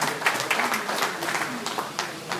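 Conference audience in a hall applauds with dense, steady clapping at moderate volume, continuing throughout.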